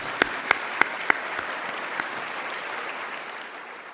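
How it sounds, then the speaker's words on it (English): A festival audience breaks into applause for its volunteers at a book-festival dinner, opening with a few sharp, distinct claps before settling into a sustained, moderately loud wash of clapping. "Let's give them a huge round of applause."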